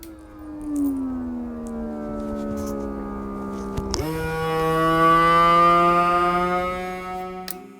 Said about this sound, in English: And it does make a noise when I plug it in, so I want you to hear it.